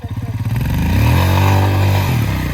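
Royal Enfield Himalayan motorcycle engine revving off road, starting with a pulsing idle-like chug that swells into a loud sustained high rev, then eases off near the end, close and dominant.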